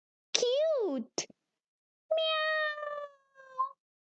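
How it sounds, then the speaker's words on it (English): Two meows from a cat, one bending sharply up and down, then a longer, steadier call, both loud and close against silence. "Meow."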